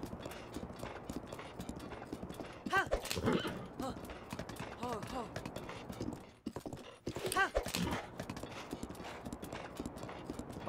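Horse hooves clip-clop in a steady, brisk rhythm through a scene in The Legend of Zelda: Breath of the Wild, with a voice briefly heard in the background.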